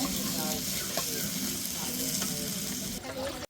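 Fish frying in hot oil in a home kitchen, a steady close sizzle and crackle that runs without a break, with light stirring and a faint voice in the background.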